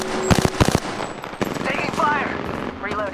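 Rapid bursts of gunfire ring out in the shooter Apex Legends, a tight cluster of loud shots up front, followed by more game sounds with some voice chatter mixed in.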